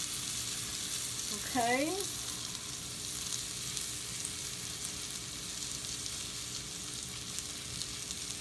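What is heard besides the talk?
peanut butter sauce sizzling while cooking in pan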